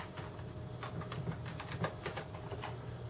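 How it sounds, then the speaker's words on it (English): Fingers type a password on a computer keyboard to unlock user settings in Ubuntu, giving a run of quick, light key clicks up close over a faint steady room hum. "You have to type in your password."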